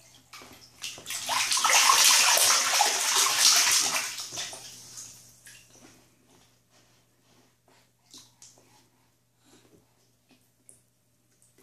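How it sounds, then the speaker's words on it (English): Water splashing in a bathtub with tub toys, a loud burst of sloshing for a few seconds that fades into scattered small splashes and drips. "Splash, splash, splash."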